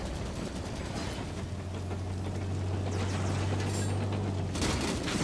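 Gunfire in the Halo 5 Guardians shooter, a dense continuous spray of weapon fire layered over a steady droning vehicle hum, loud and sustained throughout.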